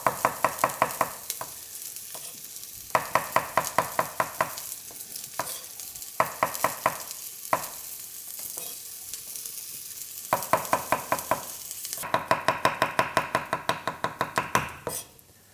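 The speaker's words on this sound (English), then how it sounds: "into the shallots, a handful of mushrooms, and then back on a high heat, and we're going to get that cooked right down and caramelized" Mushrooms and shallots cooking in a pan over high heat, with a loud continuous sizzle cut through by bursts of rapid rhythmic scraping and tossing, repeated in several runs and close to the listener.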